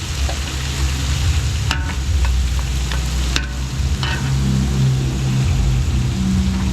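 Garlic and onions sautéing in a large catering pan for a big event in Zambales, a steady loud sizzle with occasional scraping stirs and clinks throughout.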